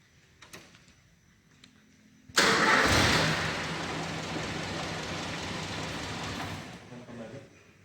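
After a quiet stretch with faint clicks, a car engine cranks and fires up abruptly following installation of a new battery, then runs at a steady, fairly loud idle before easing slightly near the end.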